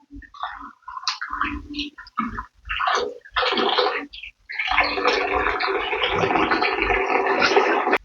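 Water splashes in short, choppy bursts as something is swished around, then pours in a steady, continuous stream near the microphone.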